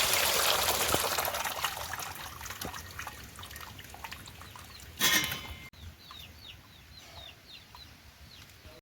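Liquid pours into a wok in a home kitchen, a broad hissing rush that fades over several seconds and ends with a short louder splash, followed by chickens chirping and clucking nearby.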